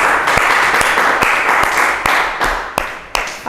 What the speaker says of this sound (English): Okay, let's give him a round of applause.